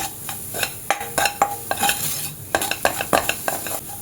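Spices including turmeric, red chilli powder, hing and garam masala sizzle in oil as a spoon stirs them in a pan, with rhythmic scraping clinks over a steady frying hiss.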